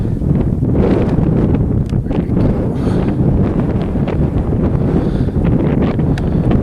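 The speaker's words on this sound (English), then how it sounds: "sorry if you hear the wind. It's pretty blustery out." Strong gusty wind on open South Dakota antelope-hunting country buffets the microphone with a constant loud, low rumble and roar, no pauses and no voices heard.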